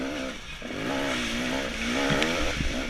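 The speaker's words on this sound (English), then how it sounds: "Listen to that 2-stroke pull." A two-stroke dirt bike engine pulls hard uphill during a Hillbilly GP off-road race, its buzzing note rising and surging loudly and steadily for about three seconds, close to the rider with no talk.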